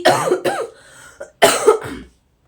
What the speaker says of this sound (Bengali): আমার শরীরটা কদিন থেকে ভীষণ খারাপ, কাশি থামছে না আজকে